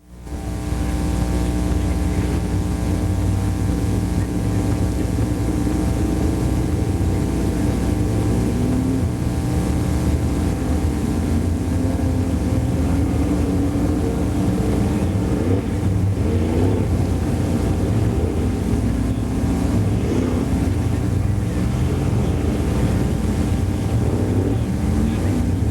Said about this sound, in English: So the Hav-A-Tampa dirt late models on the speedway.